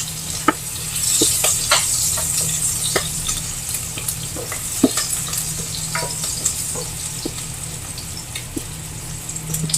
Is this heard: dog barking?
no